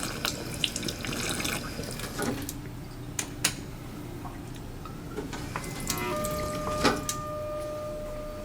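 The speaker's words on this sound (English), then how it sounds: "Got water fountains too." A drinking water fountain in an office building lobby near elevators runs with a steady watery hiss, with a few faint clicks and a brief tonal whine toward the end.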